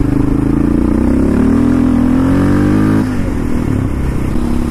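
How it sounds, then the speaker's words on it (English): A Yamaha Raptor 700 quad ATV engine revs and drones steadily up close, its pitch rising and falling as the rider accelerates, with a brief dip in load partway through. "It's a beautiful day to be out for a ride on the quad"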